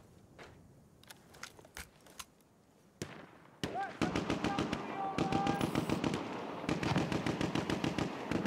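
Gunfire in the video game Battlefield 1 beta, sparse sharp shots at first, then dense rapid bursts of automatic fire crackling close and loud, with brief voice-like tones mixed in.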